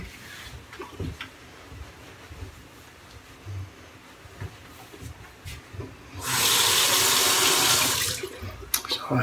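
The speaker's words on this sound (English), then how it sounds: "I rinse the razor so it's not so warm steel on my face." Tap water runs into a sink to rinse a King C Gillette razor, a loud steady gush starting midway after quieter handling sounds, then cutting off near the end.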